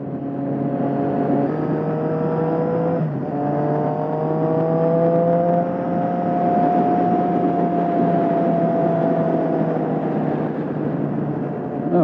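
A Triumph Street Triple 675 motorcycle exhaust sings loudly on a ride, its engine note rising smoothly through the revs with a brief dip at a gear change, then climbing again in a long sustained pull.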